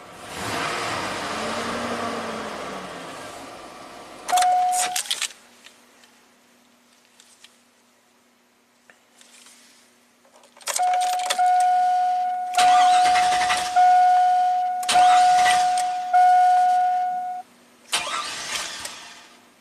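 A GM Chevy V8 with an intermittent no-start fault cranks in several loud bursts, with whines and pauses between attempts, then catches and runs before cutting off again.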